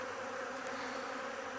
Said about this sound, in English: I feel like this is the most bees we've had in our face.